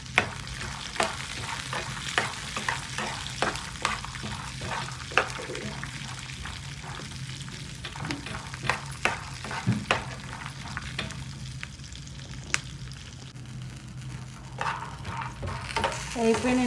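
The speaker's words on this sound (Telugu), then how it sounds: "ఇందులోనే కొద్దిగా జీలకర్ర కూడా వేసేస్తున్నాను." Cumin seeds fry in hot oil in a pan with a soft steady sizzle, punctuated by repeated sharp clicks and scrapes of a spoon stirring against the metal throughout.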